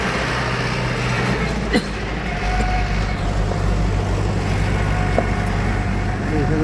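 Steady road traffic rumbles throughout on the Shingnapur ghat road, with bullock carts and tractors among the vehicles, a continuous engine drone with passing vehicles, fairly loud and unbroken.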